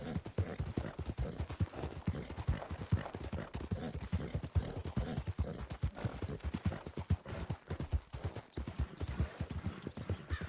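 Appaloosa horse hooves in Red Dead Redemption 2, a steady close clip-clop trotting rhythm that repeats without pause, with occasional faint whinnies and no talk.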